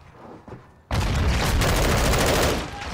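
Heavy gunfire in Call of Duty Modern Warfare 2 erupts after a quiet start, a dense rapid burst of automatic shots lasting about two seconds before easing off, loud and close.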